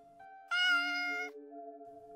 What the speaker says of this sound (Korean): 선명하게 고양이 울음소리가 들리는 거예요.